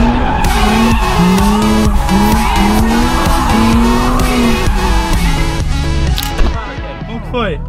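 A Nissan 350Z drifts with loud, sustained tire squeals in repeated sweeping bursts over a roaring engine, heard close up, while people talk and shout throughout.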